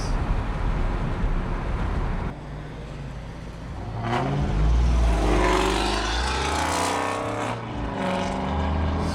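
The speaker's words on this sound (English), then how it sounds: "I don't know who drives Chrysler 300s when they're straight piped" A straight-piped Chrysler 300 passes with a loud, raspy exhaust drone that swells from about four seconds and holds near and strong, over steady wind noise from open car windows.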